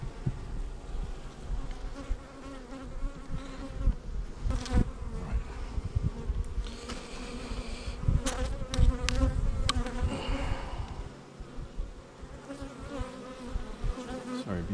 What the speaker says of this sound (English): A lot of bees in there, huh?